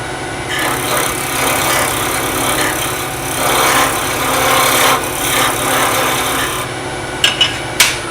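Wood sanded down for a round skew chisel handle, a loud continuous abrasive rasping that swells and eases for several seconds, ending with a few sharp knocks.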